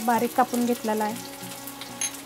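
Cumin, mustard seeds and finely chopped onion frying in hot oil give a faint, steady sizzle beneath a voice talking close by.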